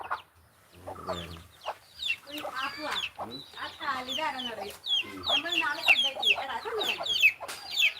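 Native chickens cluck close by in rising and falling bursts, with voices heard among the calls.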